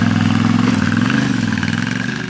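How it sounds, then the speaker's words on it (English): Loud, close Yamaha Tenere 700 parallel-twin engine with crossplane crank, a steady low throbbing drone with a slight dip in revs, no speech. "It's got tons of grunts down low, an engine note that even V-twins can't scoff at"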